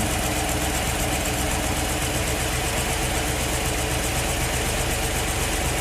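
A 1953 Riley RMF car with a Rover V8 engine and quad carburettors idles steadily during ignition timing setup, a constant low rumble with a faint rhythmic pulse, close by and with no voices.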